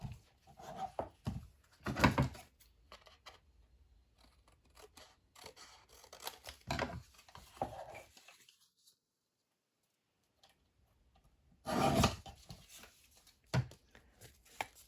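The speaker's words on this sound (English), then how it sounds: "So I'm going to just quickly trim this off first" Scissors trim paper scraps for a patchwork pocket in a run of crisp, close snips and rustles, then a silent pause before a final burst of cutting.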